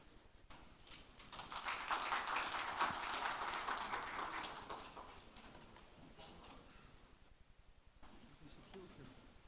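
An audience at a forum claps for a professor, a dense patter of applause that swells, peaks and then slowly fades away, with a few stray claps near the end.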